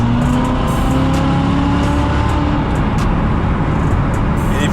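A Corvette Z06 fitted with a Corsa X-pipe and muffler cruises at speed, its exhaust giving a continuous loud engine drone mixed with road and wind rumble and no talk.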